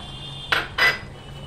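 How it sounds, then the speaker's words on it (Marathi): Field beans and flat beans tipped into a pan for a Malvani-style bhogichi bhaji, making two short, close rustling clatters about a quarter second apart over a quiet background. "पावटा आणि पापडी टाकूया।"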